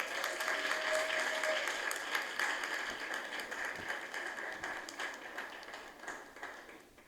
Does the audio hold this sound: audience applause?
yes